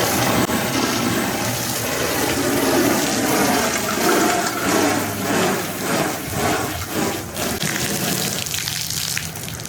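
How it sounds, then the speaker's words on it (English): A hose sprays water across an RV awning to pre-wet it before scrubbing, a steady broadband rushing gush that runs continuously at close range and eases off near the end. "you're supposed to pre-wet your awning to help soften up the bug guts and dirt"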